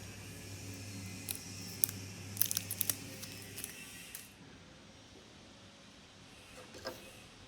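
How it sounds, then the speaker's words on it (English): Plastic wrapping being peeled and crinkled off a battery for a Lenovo 600 Bluetooth mouse, giving a few close, sharp crackles and rustles over a low hum that then fades to near quiet. "Let's unwrap the plastic."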